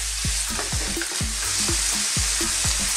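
Pork liver for adobo fries in a pan with a constant loud sizzle, while a utensil scrapes and stirs in a steady rhythm of about two strokes per second, close up and with no talking.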